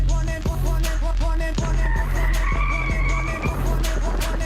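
A Mercedes-Benz AMG GT 63 S 4MATIC+ in rear-wheel-drive drift mode screeches its tires as it slides sideways. The engine roars loudly underneath, and a long tire squeal rises through the middle of the slide.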